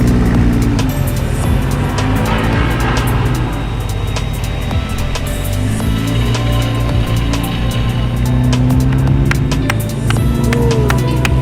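A TC America race car at Circuit of the Americas runs loud and steady for the whole stretch, its deep engine drone and harmonics filling the track with a constant roar.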